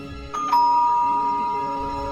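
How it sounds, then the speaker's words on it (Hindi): A hotel room doorbell chimes with two bright tones, the second ringing on and slowly fading, close and clear over a quiet room with no voices. "उनके रूम की घंटी बजी।"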